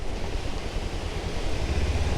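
Glacier meltwater stream flowing on a high mountain route in the Indian Himalaya, a steady broadband rush of water close by, continuous and fairly loud with wind buffeting mixed in and no talk.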